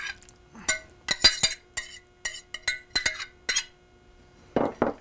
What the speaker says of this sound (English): So I'm going to spoon my filling in there.